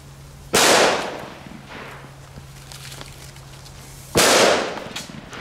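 Two loud firecracker bangs from bird scarer fireworks bought in Belgium, spaced about three and a half seconds apart, each a sharp close blast with a decaying rumble, over a steady low hum.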